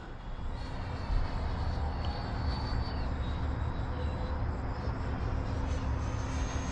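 Freewing T-45 Goshawk 90mm electric ducted-fan RC jet at full throttle, giving a steady, loud, even whooshing roar that holds without a break for the whole stretch.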